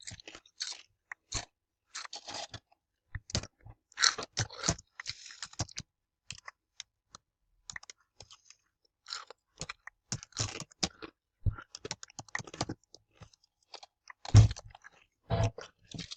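Crunchy Doritos chips chewed close to the microphone during a Minecraft Bed Wars session, irregular bursts of crisp crunching mixed with keyboard and mouse clicks, no talk.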